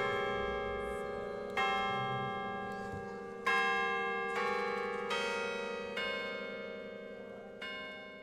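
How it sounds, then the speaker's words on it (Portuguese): A peal of church bells from a set of 13 bells, each tuned to a different note, sounding a slow sequence of ringing strikes with long sustained tones that overlap and decay; moderately distant, with no talking. "Os 13 sinos tocam martelo e os 13 sinos tocam balançando"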